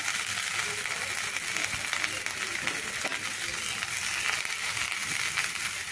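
Raisins fry in a pan with oil while poha is being made for breakfast, giving a continuous close sizzle and crackle at an even level throughout.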